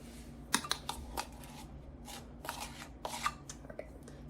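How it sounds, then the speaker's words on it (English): A whisk scratches through flour, baking powder and salt in a bowl, making quiet, brisk rustling strokes in an irregular rhythm. "We're just going to whisk this up and set it to the side."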